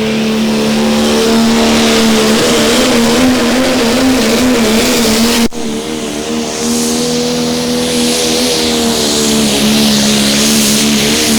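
A two-wheel-drive pulling truck revs loud and steady at an NTPA Grand National truck and tractor pull in Sandwich, its engine droning strong as it drags the sled down the infield side, with a brief dip midway before the roar continues.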